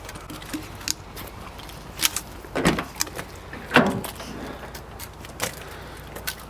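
A sliding door on a Toyota van rolls and latches, giving several short mechanical clunks and rattles scattered through the stretch, fairly close and moderately loud, with no talk.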